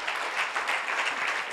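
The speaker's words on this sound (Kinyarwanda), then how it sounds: "dukomere Yesu amashyi" Congregation applauding for Jesus during a church worship service, a steady wash of many hands clapping at moderate loudness for a short burst.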